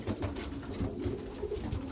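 Belgian racing pigeons in a loft give off low, soft cooing that repeats in steady overlapping pulses. It sits close and moderately loud with no talk over it.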